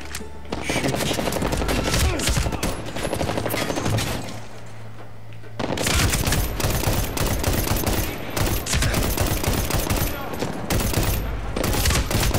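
Rapid bursts of machine gun fire in the video game Medal of Honor Warfighter, crackling dense and loud in pulsed volleys with a brief lull in the middle.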